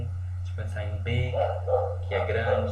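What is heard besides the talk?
dog barking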